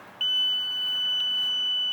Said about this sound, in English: as you can hear, the alarm's going off